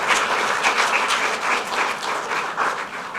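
An audience claps its hands at a Commonwealth Day observance, with dense, sustained applause filling the room at close range and steady volume throughout, with no voices.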